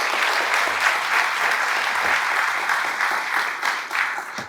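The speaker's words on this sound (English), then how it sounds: "I think we all have to give another big round of applause to Governor Sanders." An audience at an Arkansas Diwali event applauds Governor Sarah Huckabee Sanders, steady, full clapping from a sizable crowd lasting several seconds, gradually thinning at the end.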